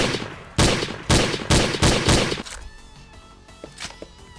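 A Valorant-style weapon fires in a Counter-Strike mod for Doom on Zandronum: five loud, evenly spaced shots with booming tails, then quieter scattered thumps and softer shots fading out.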